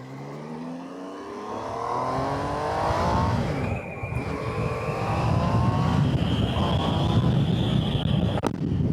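A 2025 Triumph Tiger 800 Sport motorcycle is ridden in sport mode, its engine rising through revs with a clear shift and then pulling again under constant wind rush, heard from the rider's position.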